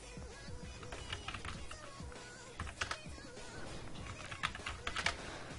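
Someone types quickly on a computer keyboard, with irregular bursts of close, light key clicks and short pauses between them, and no speech.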